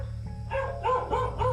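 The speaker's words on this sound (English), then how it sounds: "we heard dogs barking in the area" Dogs somewhere near a rescue team in Iraq bark in short repeated bursts, three or four clear barks over a constant low drone.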